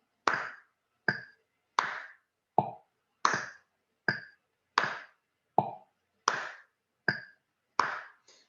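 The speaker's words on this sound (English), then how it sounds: "So I'm just going to clap on 2 and 4." Eleven crisp hand claps fall at a steady, even pulse on the backbeat, each sharp and close with a short decay and silence in between, with no voice.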